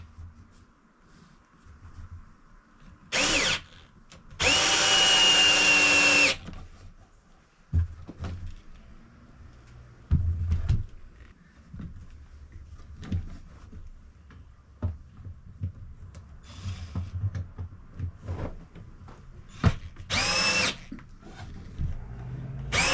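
A power drill drives a screw into wood with no pilot hole, in two loud whirring bursts, a short one and then a longer strain, separated by quiet handling clicks and knocks in a workshop.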